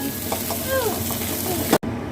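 Food frying in hot oil in a pan gives a steady, close sizzle, and a person talks over it briefly.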